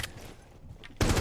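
Short bursts of gunfire in a first-person shooter match, a brief muffled spray early on, then a loud close volley at the end, with no talk.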